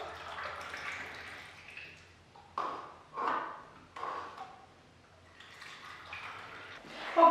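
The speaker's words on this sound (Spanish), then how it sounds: "voy a echar medio litro en un cuarto" Water is poured from a half-litre measure into a quarter-litre container. Quiet, intermittent splashing and trickling arrive in several short bursts with faint pauses between them.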